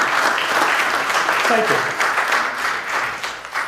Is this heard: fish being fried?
no